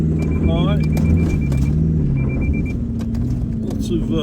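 A car engine revs hard under load while climbing a steep uphill track in first gear, a strong continuous low drone rising and falling, with a person talking over it.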